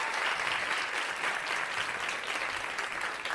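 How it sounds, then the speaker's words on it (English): A New York City stand-up comedy club audience applauds, dense steady clapping with some cheering throughout, loud and close, no speech. "New York City, a round of applause."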